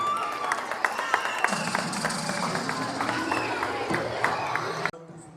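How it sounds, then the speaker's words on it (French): Audience clapping at a French school event, a steady patter of applause with scattered sharper claps, mixed with voices and tonal background sound, cutting off abruptly just before the end. "Est-ce qu'on peut applaudir pour eux, s'il vous plaît?"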